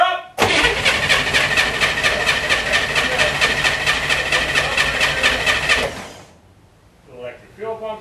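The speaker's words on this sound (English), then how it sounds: "Either it'll fire right up instantly or it'll crank for a minute till the fuel pump builds pressure" A Can-Am Spyder engine cranks for several seconds in a loud, even, rapid chugging rhythm without catching. The cranking stops abruptly, then a voice speaks briefly.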